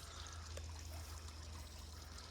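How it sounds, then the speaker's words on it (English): Water trickles steadily onto garden plants as they are watered outdoors, a soft continuous pouring hiss over a low hum, faint and without talk. "I'll come down and water these."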